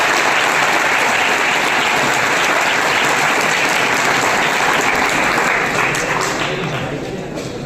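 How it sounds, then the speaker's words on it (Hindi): An audience applauds a student at a school event, a dense, steady burst of clapping lasting several seconds before tapering off slightly at the end. "अपने विद्यार्थी के लिए ताली बजाओ।"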